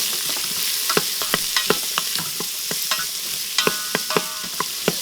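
Garlic and onion sizzle in oil inside a Cosori pressure cooker pot, under a continuous frying hiss punctuated by many sharp, close spoon clicks and scrapes as they are stirred.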